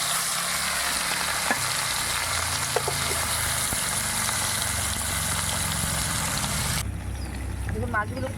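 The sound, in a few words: fish pieces with salt and turmeric frying in mustard oil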